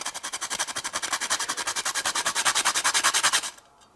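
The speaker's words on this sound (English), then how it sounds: "we're going to grate a little bit of nutmeg right on top as well" Fine grater rasping across whole nutmeg in quick, even back-and-forth strokes, about eight per second, close and loud for several seconds before stopping abruptly.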